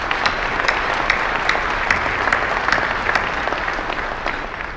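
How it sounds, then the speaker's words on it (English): Audience applause at a Chamber of Commerce speech event, sustained clapping from a large crowd with distinct individual claps standing out, steady and close, tapering slightly at the end. "Please join me in a round of applause as we recognize their contributions."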